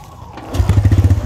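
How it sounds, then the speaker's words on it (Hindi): A TVS Raider 125 motorcycle with a weak battery is kick-started in gear, the engine catching after a short crank and settling into a close, loud, rapid thumping rhythm. "आप देख सकते हैं कितना आसानी से स्टार्ट हो रही है"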